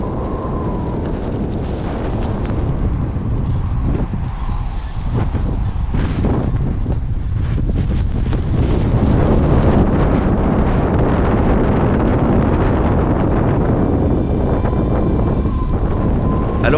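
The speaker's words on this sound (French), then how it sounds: "Les bourrasques de vent approchaient les 90 km/h" Strong wind gusts near 90 km/h roar continuously on a Lapland ski trail in -17 °C cold, buffeting the microphone loudly throughout with surging low rumbles and no voices.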